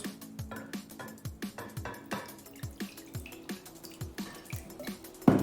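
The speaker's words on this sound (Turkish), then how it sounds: "Önce suyumuzu kabımızda boşaltıyoruz" Water pours into a bowl in a kindergarten classroom for a germ experiment. It makes a steady series of close splashes and drips with faint clinks and no talking.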